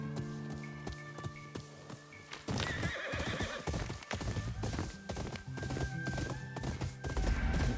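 Horse in the video game Ghost of Yotei, with quiet music at first, then a loud whinny and a run of close, rapid galloping hoofbeats under the game music, without speech.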